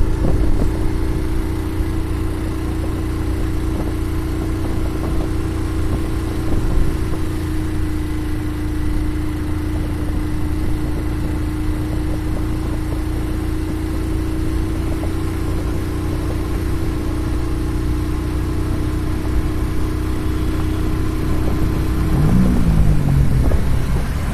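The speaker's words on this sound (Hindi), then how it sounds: "आगे मोटरसाइकिल पर जा रहे हैं, आहिस्ता आहिस्ता सफर को एंजॉय करते हुए" Motorcycle riding slowly ahead on a winding mountain road between Nathia Gali and Murree, its engine a steady mid-pitched drone with a low rumble that holds even throughout, with no talking.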